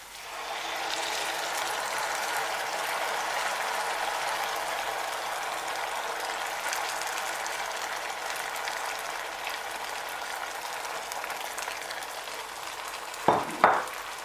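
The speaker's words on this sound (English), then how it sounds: "we're going to go ahead and add our blended and boiled tomato pepper mix" Blended boiled tomato and pepper mix pours into a pot for jollof rice, giving a long, steady hiss and sizzle that ends with a couple of sharp clunks.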